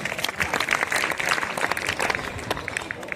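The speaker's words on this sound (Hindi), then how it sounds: "एक बार जोरदार तालियां हो जाए" Schoolchildren and teachers clapping at a government school Republic Day event, a loud, lively burst of close, uneven handclaps that keeps going the whole time.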